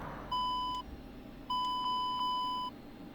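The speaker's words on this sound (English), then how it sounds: "Beep beep." Cockpit warning beeps in a Q400 turboprop in the Aerofly FS2 flight simulator, steady pure electronic tones: one beep, a pause, then two more back to back, clear over a low cabin hum.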